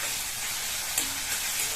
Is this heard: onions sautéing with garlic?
yes